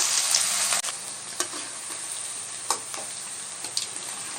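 Gobi manchurian cauliflower pieces deep frying in hot oil, a dense continuous close sizzle with scattered pops and crackles throughout, no voices.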